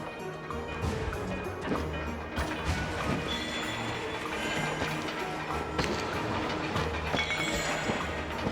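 A train in the video game Trine 4 rumbles with rhythmic clickety-clack and heavy thumps, sustained and fairly close, with no voices over it.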